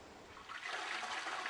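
A toilet flushes with a brief, rising rush of water that continues as a steady whoosh, close and alone.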